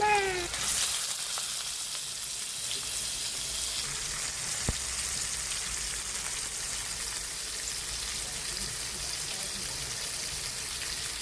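Fish pieces fry in hot oil in a pan, a steady, even crackling hiss that holds at the same level throughout after a short sharper burst at the start.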